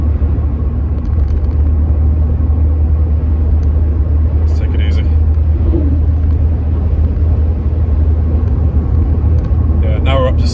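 A 1991 Mercedes-Benz 190E 2.0 E accelerates at full throttle after kickdown on a motorway, a steady low engine and road rumble heard from inside the car, constant and loud throughout.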